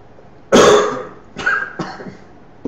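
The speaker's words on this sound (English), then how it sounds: "Sorry, my cough is bad." A sharp, harsh cough close up, followed by two smaller coughs, with quiet in between.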